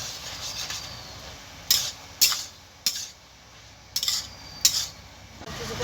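Green chilli paste being fried with ash gourd and potatoes in a pan, a soft background sizzle broken by about six sharp metal spatula scrapes and clinks at irregular intervals.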